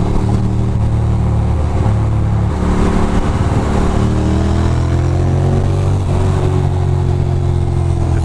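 Road traffic on Route 3 in Nutley, New Jersey: car engines drone and rise in pitch as vehicles accelerate close by, a steady mix of passing motors with shifting revs and no talk.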